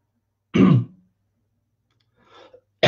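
A single rough cough or throat clear, close by, followed by a quieter hacking sound and the start of another burst.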